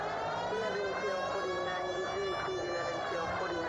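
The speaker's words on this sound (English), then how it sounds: "Here's a novel idea. Turn on the siren." A police car siren in the L.A. Noire video game wails continuously at moderate level, its tone sweeping up and down over a few seconds with a voice faintly present.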